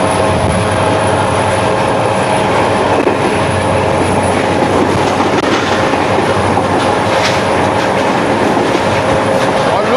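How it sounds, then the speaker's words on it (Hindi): A moving passenger train runs between stations in Punjab, its wheels clattering on the tracks in a loud, steady, close rumble with rhythmic clicks and a faint high squeal, with no talk over it. "ट्रेन हमारी दौड़ लगा रही है फ़रोज़ा और लियाकतपुर के दरमियान"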